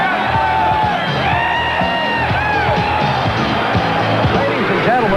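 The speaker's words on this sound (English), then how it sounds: "this Bills crowd on their feet here at Rich Stadium" Buffalo Bills football crowd at Rich Stadium in 1979, on their feet with a loud, continuous cheering roar full of whoops and yells.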